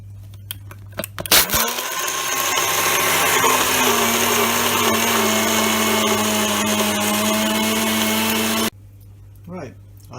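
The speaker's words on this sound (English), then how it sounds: "we're just going to blend up the ice so it's nice and slushy" A kitchen blender runs steadily for about seven seconds, crushing ice into slush with a loud whirring motor drone, then cuts off abruptly, with brief handling clatter before and after.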